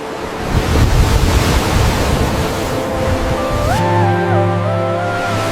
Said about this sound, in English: Waves swelled, slamming the hull, while the crew tightened their grip.